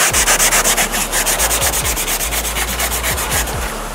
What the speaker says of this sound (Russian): Так, берем 180-ю шкурку.